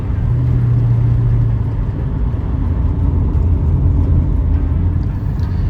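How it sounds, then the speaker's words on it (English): A 1965 Ford Mustang convertible engine idles under light throttle, giving a steady, loud, low rumble that stays even and continuous throughout with no voices. "it's the same kind of thing you can feel with just giving the engine some light rev"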